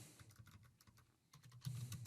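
Quiet, rapid keystrokes on a computer keyboard as user details are entered, a soft irregular run of clicks with a brief pause midway.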